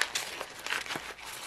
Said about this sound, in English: let's go ahead and crumple this up.